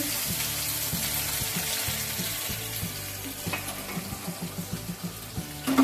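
Chopped onions with dried red chilli and garlic sizzle steadily in a hot pan, with a constant crackling hiss and, toward the end, a series of rhythmic stirring scrapes.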